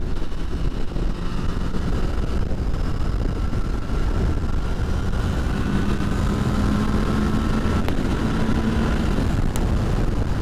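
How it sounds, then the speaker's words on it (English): A motorcycle engine rumbles steadily under heavy wind roar, a constant low drone with slight pitch shifts as the bike rides along. "What a lovely day to ride a motorbike."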